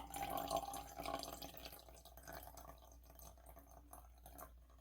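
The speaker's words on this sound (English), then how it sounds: "And then you're going to add your water." Water being poured into a container while making a homemade lava lamp, a soft close trickle and splash, fuller at first and thinning toward the end.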